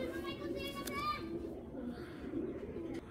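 A racing pigeon, a hen from a home loft, cooing in low, soft repeated calls beneath a man's close, continuous talking, with faint children's voices in the background.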